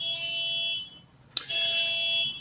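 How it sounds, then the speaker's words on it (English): A car alarm sounds outside, two sustained shrill electronic blasts separated by a short pause and a sharp click, heard from a distance and fairly loud. "the car alarm's going off outside"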